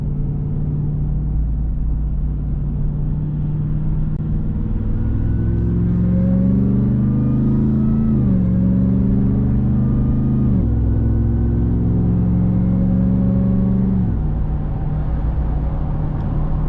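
A Ram TRX truck with an aftermarket exhaust pulls hard on the highway, heard from inside the closed cab: a deep steady engine drone rising through the revs, dipping briefly at each gear change, loud and continuous with no talking.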